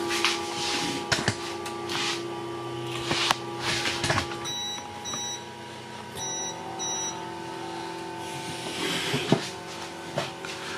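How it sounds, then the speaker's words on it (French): A few short high electronic beeps from a QIDI i MATE S 3D printer chirp in quick pairs over a steady mechanical hum and occasional clunks as a print starts. "ça c'est un bip d'alerte, c'est normal, elle lance son impression"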